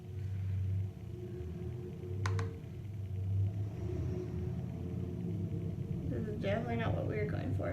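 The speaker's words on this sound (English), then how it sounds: "Sorry for that obnoxious truck that's driving by" A passing truck outside a house rumbles as a steady low drone through most of the stretch, with someone speaking over it near the end.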